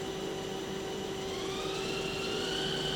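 Spindle of a Hardinge Talent 10/78L CNC turning center with live milling, spinning at speed with a steady whine and a tone that rises slightly partway through, over a constant machine hum.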